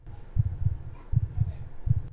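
A heartbeat sound effect in a video game thumps in steady paired beats, low and muffled, repeating several times without talk.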